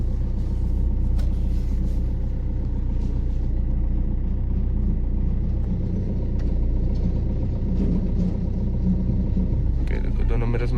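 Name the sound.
car reversing slowly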